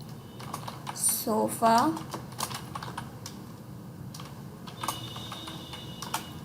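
Someone types a product name into point-of-sale billing software on a computer keyboard. The keys give quick, close, irregular clicks in short runs, with a moment of speech early on.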